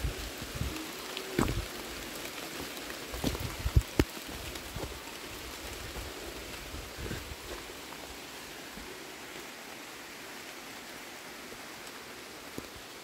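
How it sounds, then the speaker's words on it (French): Rain falls steadily in a forest, a soft continuous hiss of drops on leaves with a few louder nearby splats and rustles early on, gentle and evenly spread throughout. "Il y a de la pluie"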